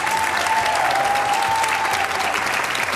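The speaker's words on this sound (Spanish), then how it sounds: "Un aplauso para Jorge." Studio audience applauding a guest on a Galician music talk show, a steady dense wash of clapping sustained at even loudness throughout.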